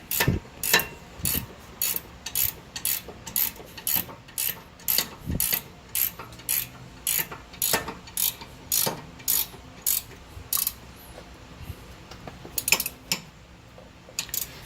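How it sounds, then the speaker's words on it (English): A 19mm ratchet wrench tightens a rear brake bolt on an Infiniti JX35/QX60 during a brake pad and rotor job, giving close, crisp bursts of rapid clicking in a steady back-and-forth rhythm, with no talking. "I'm going to get my 19mm ratchet wrench."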